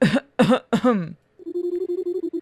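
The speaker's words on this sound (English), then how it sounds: "Another sudden attack of coughing interrupts General Grievous." Three short, harsh coughs from General Grievous in a Star Wars video game, in quick succession, followed by a steady low electronic hum with rapid pulsing.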